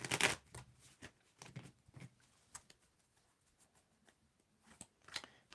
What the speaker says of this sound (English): Let's give it another shuffle here.